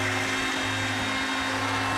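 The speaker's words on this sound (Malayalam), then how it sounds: "ഒരല്പം തണുത്ത വെള്ളം ചേർത്തിട്ട് മിക്സിയുടെ ജാറിൽ നന്നായിട്ട് അടിച്ചെടുക്കാം" Mixer grinder jar blending raw mango with salt and cold water, a loud, continuous motor whir with a steady hum, heard alone at close range.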